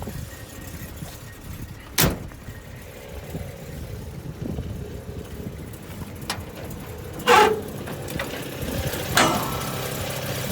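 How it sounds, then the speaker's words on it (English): A 1958 Buick Limited Riviera nailhead V8 idles steadily at a distance after its first start in months, with a few sharp knocks or clunks standing out over the low rumble. "I just fired the car up for the first time since November"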